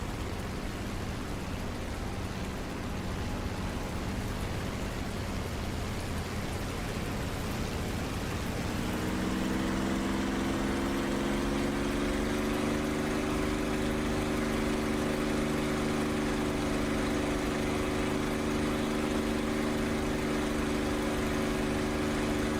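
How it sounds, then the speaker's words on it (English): An aircraft engine in the DCS flight simulator roars over a broad noisy wash; partway through a droning tone rises and settles into a loud, steady whine, with no voices. "The engine was a little bit loud."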